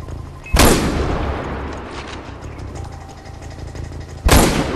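Two loud gunshot blasts from gameplay in the video game Far Cry 4, one early and one near the end, each a sharp broadband crack with a decaying tail over a steady low rumble of game ambience.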